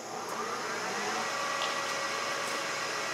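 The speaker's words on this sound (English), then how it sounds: "When you're ready, turn on the machine" A lathe runs steadily during a reaming operation, a constant broadband mechanical whir and hiss with faint tonal hum, close and unchanging, with no talking.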